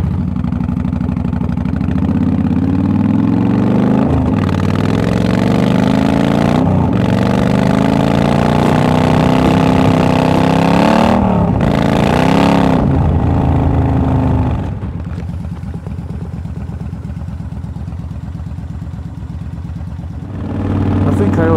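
A motorcycle fitted with a Yamaha windscreen, suffering a slipping clutch, rides along with a steady engine drone and changing revs under wind rumble, then drops to a lower idle-like tone near the end while a rider talks throughout.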